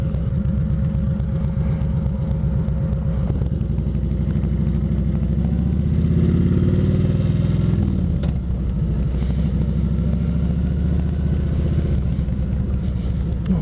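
A motorcycle ridden along a road produces a continuous, close engine drone with steady wind rumble. The pitch rises and falls slightly midway, as if the bike speeds up, and no one speaks.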